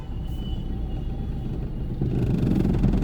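A car pulls away slowly as the clutch is let out, a steady low engine rumble that grows louder and deeper partway through, close by with no talking.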